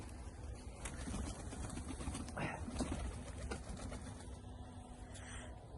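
Soft pigeon cooing in the background over a steady low hum, with a faint voice briefly present.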